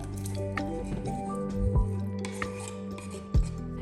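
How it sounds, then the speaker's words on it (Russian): Chunks of salmon tipped into a pot of homemade fish soup with cooked potatoes, making soft wet squelches and drips with a few heavier plops, all close by. "Добавляем семгу."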